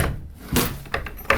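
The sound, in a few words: door that won't open in a horror video game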